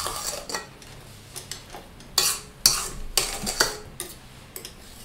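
A spatula scraping down the sides of a bowl of vanilla cupcake batter, a series of short scraping and knocking strokes of varying loudness, close up with no talking.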